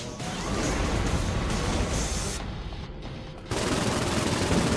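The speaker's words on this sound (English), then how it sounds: "Who the hell is shooting at me?" Gunfire in the video game Saints Row IV, a dense, rapid burst of shots and crashing impacts that cuts out briefly and then resumes just as loud, with no voices.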